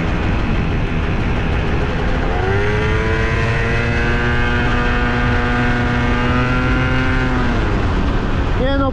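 An Italjet Dragster 180cc two-stroke scooter accelerates hard, its loud, close engine rising steadily in pitch through a long buzzing pull before dropping off at the end.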